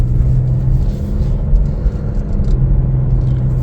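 Chevrolet Trailblazer RS driving on a road, heard from inside as a steady low engine and road rumble with a soft whir, no talk.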